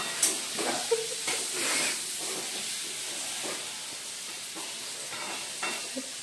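Chopped onion fries in a pan with a steady hiss and sizzle, along with faint stirring scrapes and soft clinks. It is close and continuous, with no talking.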